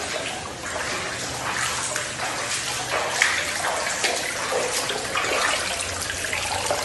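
Floodwater in Dubai pouring into a house, a steady rushing and splashing flow with small gurgles, close and continuous.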